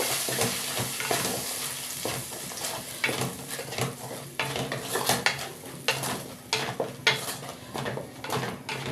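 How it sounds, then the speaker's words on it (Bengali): Peanut, tomato and green chili paste sautéing and being stirred in a pan, a steady close sizzle broken by repeated scraping strokes of a spoon and clinks against the metal. "বাদাম, টমেটো আর কাঁচা লঙ্কা পেস্ট করে রেখেছিলাম, এটা আমি ভালো করে কষিয়ে নেব।"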